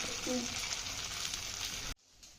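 A burger patty frying in oil, a dense steady sizzle heard close up that cuts off abruptly near the end, leaving quiet.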